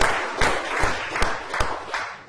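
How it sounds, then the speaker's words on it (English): An audience at a campus talk applauds a former student freshman senator, a crisp burst of hand clapping with a few sharper claps standing out, heard at moderate distance. "So big round of applause to you"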